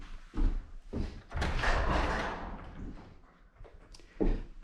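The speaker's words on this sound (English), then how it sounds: "I'm going to open my door so I don't asphyxiate myself on fumes." A door swings open on a Honda Pioneer 500 turbo side-by-side in a garage, giving several thumps and a rattling scrape of moderate loudness, with a final knock at the end and no voices.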